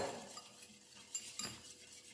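Whisk or spoon beating eggs with melted margarine in a bowl, quiet brisk scraping and light clinks against the bowl, close and faint, with no talk.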